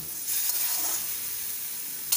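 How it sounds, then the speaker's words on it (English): Khaman dhokla pieces are tossed in a pan just off the heat, giving a soft continuous sizzle and hiss with light stirring, close and steady, ending on a small clatter. "be dropping all the khaman pieces inside. Now put off the gas. Just give a thorough mix."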